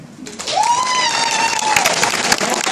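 Applause and cheering from a comedy club audience, a broad wash of clapping with a rising whistle or whoop swelling through it, steady and fairly loud from start to finish.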